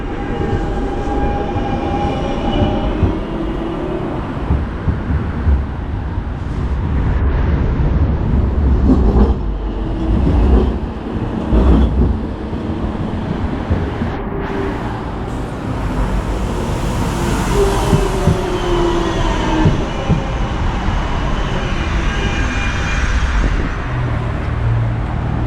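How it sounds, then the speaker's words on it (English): A Nuremberg tram rumbles in and slows at the Christuskirche stop, wheels and motor droning with squeals and clatter, plus street traffic around it; no talking. "Here we are now approaching the station Christuskirche. We can take a look at the trams there"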